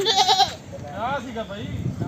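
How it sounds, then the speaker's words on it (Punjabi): A desi and Beetal cross goat at the Harike Kalan goat market gives a short, loud, close bleat, followed by people talking nearby. "ਬਹੁਤ ਚੰਗੀ ਬੱਕਰੀ ਆ ਬਾਈ ਜੀ ਇਹ ਦੇਸੀ ਤੇ ਬੀਟਲ ਦਾ ਕਰਾਸ ਆ"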